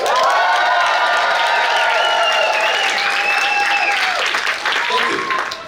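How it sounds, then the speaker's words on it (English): An audience claps and cheers from a balcony at an art school commencement ceremony, loud sustained applause with whoops and shouts rising above it, slowly fading near the end. "Your community is in the balcony cheering you on."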